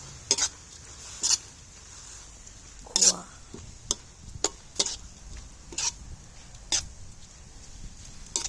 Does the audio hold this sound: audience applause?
no